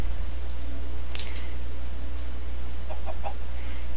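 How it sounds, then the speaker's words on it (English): Chickens cluck in the Minecraft video game, a few short clucks scattered over a constant loud hum, with no talking. "Okay, so we have one chicken, two chickens."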